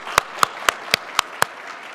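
Six slow, evenly spaced claps ring out close and distinct in a hall where an audience is thanking event sponsors, each sharp clap separated by a short silent gap.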